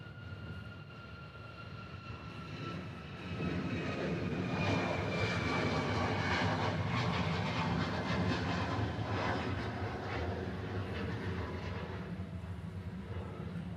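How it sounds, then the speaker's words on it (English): Engines of a Canadian C-17 military transport aircraft at Honolulu airport, Hawaii, a distant whine and broad rumbling roar that swells after a few seconds and then holds steady. "I believe that Canadian C-17 might be moving."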